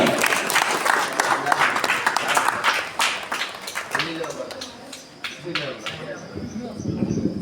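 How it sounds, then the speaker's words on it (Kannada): A crowd at a cricket tournament prize ceremony claps in dense, continuous applause, with a voice talking over it through much of the stretch and the clapping thinning out toward the end. "ಎಲ್ಲರೂ ಚಪ್ಪಾಳೆ ಹಾಕೋದ್ರ ಮುಖಾಂತರ"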